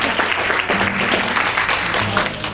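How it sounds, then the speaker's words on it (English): Applause from a seated audience at a National Federation of the Blind of New Jersey gathering, steady dense clapping throughout with a low hum underneath. "You can always count on Evelyn for the applause."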